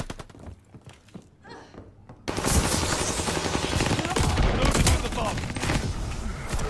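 Video game shotgun fire, a dense burst of loud overlapping blasts and thumps that starts abruptly and continues over several seconds after a quieter opening with faint talk.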